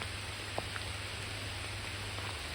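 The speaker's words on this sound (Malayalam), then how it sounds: "നല്ല മഴ വരുന്നുണ്ട്." Heavy rain falls in a rural area surrounded by rubber trees, a steady, even hiss with a few faint individual drops audible on top.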